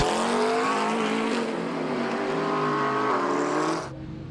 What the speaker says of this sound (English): So into the pit lane has come Warren Gilbert